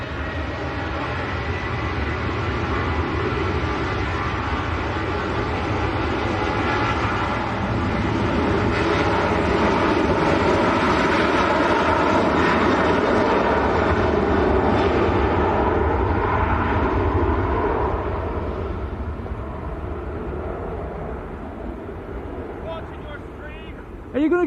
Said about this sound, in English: Another Ryanair on the roll.